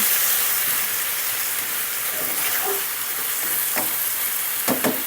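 Chicken with onion and chillies stir-fried in a pan, a steady close sizzle running throughout with a few sharp scrapes and clacks of the spatula toward the end, no talk.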